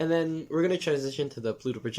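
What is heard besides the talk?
None of the usual background noises is heard.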